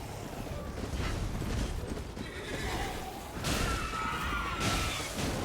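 A horse whinnies in Elden Ring as an enemy rider charges during combat, neighing cries rising over a rumbling background of hooves and clattering armor, with a few sharp crashes toward the end.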